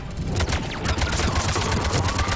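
Rapid gunfire from a weapon in the video game Mass Effect 3, a dense run of shots filling the whole moment at close range, loud and continuous with no talking over it.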